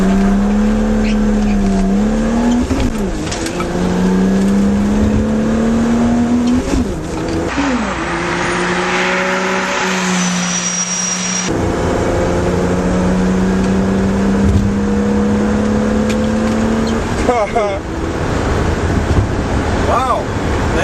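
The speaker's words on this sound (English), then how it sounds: "that cold air intake system sure gives us the extra oomph we need, especially in a merge like that" A BMW fitted with a cold air intake accelerating hard through a merge, engine note rising and shifting through gears in a loud sustained drone with wind and road roar, a voice talking over it.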